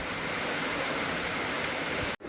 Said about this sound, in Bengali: এই দেখ বাইরেটা কীরকম বৃষ্টি হচ্ছে